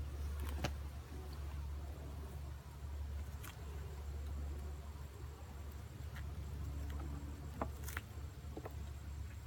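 Honey bees hum steadily around an open backyard hive during an August inspection, a continuous low drone with occasional louder wingbeats passing close, with no voices.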